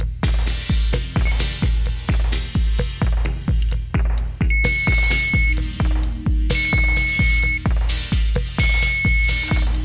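A kitchen timer's high electronic beep sounds in long tones three times, spaced a couple of seconds apart, over a loud, rhythmic, bass-heavy music loop; an oven timer for a chicken pot pie.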